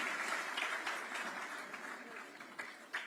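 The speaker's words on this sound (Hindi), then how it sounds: "तालियां हम जोर से बजाएंगे इनके लिए।" An audience at a formal honouring ceremony on stage applauds in a steady wash of many hands clapping. The applause sounds somewhat distant and fairly quiet, with a few sharper claps near the end.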